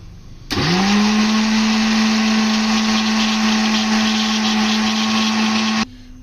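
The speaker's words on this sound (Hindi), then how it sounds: "इसको दोबारा से चलाएंगे मशीन को।" An electric mixer whirs steadily as it beats oil and eggs into cake batter, switching on sharply and holding an even, loud motor hum for about five seconds before cutting off.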